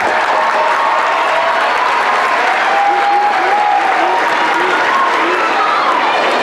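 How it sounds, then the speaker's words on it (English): Loud, sustained applause from a large audience at a school choral showcase concert, dense clapping filling the whole stretch with some voices and whoops mixed in. "Can we give it up for Ivanka who's up there running lights and sound, please?"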